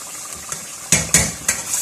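Boiled black lentils for daal maash tipped into a cooking pot, with a few sharp clattering knocks of spoon against metal as they are stirred in, close and brief, no talking.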